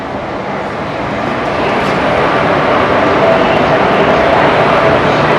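The Aranyak Superfast Express pulls into a station platform, a broad rumbling roar that swells slightly and holds steady, loud and close.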